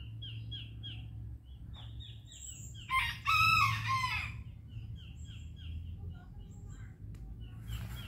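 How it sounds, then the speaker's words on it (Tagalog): A rooster crows loudly in the middle, while hens cluck and chirp softly throughout against a steady low background hum outdoors. "puro manok yan guys"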